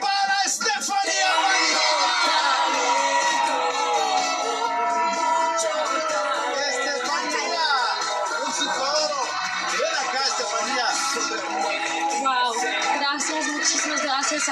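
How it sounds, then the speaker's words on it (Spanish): A loud crowd at a talent show cheers, yells and whoops for a finalist. The noise is dense and steady throughout and does not let up. "¡El aplauso para Estefanía!"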